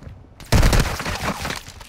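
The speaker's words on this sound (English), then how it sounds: "Is that really you lot shooting, yeah?" Players shoot in a video game: a loud, abrupt burst of rapid gunfire erupts after a short quiet moment and rattles on densely until the end.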